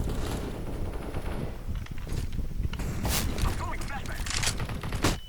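Gunfire in the video game CS:GO, rapid bursts and scattered shots mixed with clanking game mechanisms, heard under a player's talking.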